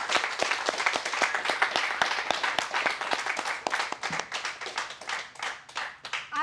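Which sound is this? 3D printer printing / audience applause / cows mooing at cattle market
audience applause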